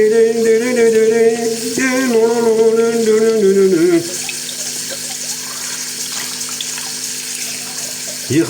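Tap water runs steadily while something is washed, a close, continuous rushing flow; for the first few seconds a voice sings or hums loudly over it.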